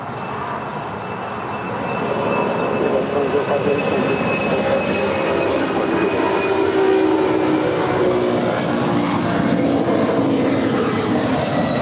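A DHL ABX 767-300, about twenty years old, departs LAX for Phoenix as a steady jet engine roar that builds after a couple of seconds and holds loud, with distant airport noise beneath.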